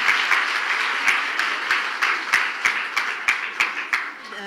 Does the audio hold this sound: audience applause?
yes